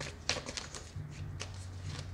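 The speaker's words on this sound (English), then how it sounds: "I am a messy shuffler" Tarot cards being shuffled in quick, loose riffles, a soft flurry of papery flicks and slaps close by, quiet and uneven in rhythm.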